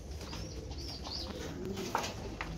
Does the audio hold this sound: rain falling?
no